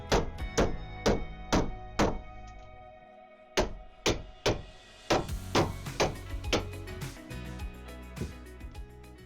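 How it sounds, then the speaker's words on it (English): Loud metallic hammer blows strike a pipe on a 1974 Norlin 34 sailboat in uneven bursts, with a ringing resonance after each hit and brief pauses between groups of strikes. "I might just drop the strap in this pipe and just try to beat it with a hammer"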